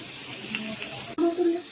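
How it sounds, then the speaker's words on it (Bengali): Onions fry in hot oil in a pan for a pumpkin curry, a soft, brief sizzle with a light clatter partway through. "তরকারি বসানোর জন্য এই যে পেঁয়াজ ভেজে নিতেছে।"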